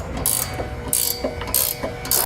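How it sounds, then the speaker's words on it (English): A ratchet socket wrench with a 3/4 inch socket tightens bolts while mounting a Curt trailer hitch receiver on a 2015 BMW X1, giving four bursts of rapid, close clicking separated by short pauses. "Now we'll use a 3/4 inch socket to begin tightening our bolts."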